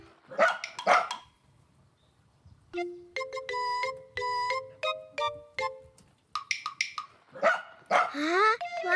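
A dog barks and yips in short close bursts, several quick calls in a row, pausing, then barking again in lively clusters, with no talking over it.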